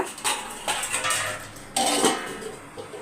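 A few sharp metallic clanks of a lid being set onto a pot of sardine curry, close by, with light rattling in between.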